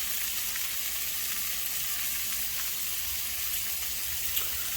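Vegetables sauté in a pan for a Southern pot roast, giving a continuous, even sizzle that holds steady at close range with no talking.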